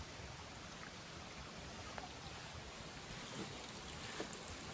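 Water rushes through a board-lined wooden flume at Mingus Mill in the Great Smoky Mountains, a steady, dense broadband wash with no breaks, roughened by some wind noise on the microphone.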